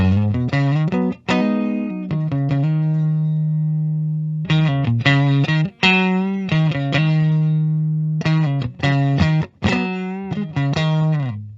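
A clean PRS Silver Sky SE electric guitar with its tone control adjusted plays ringing chords and sustained notes with pauses between phrases, the tone smooth and slightly rounded.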